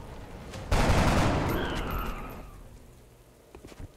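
A burst of gunfire from soldiers in the video game XCOM: Enemy Unknown, one loud sudden volley that rings out and slowly fades over a couple of seconds, with no voices over it.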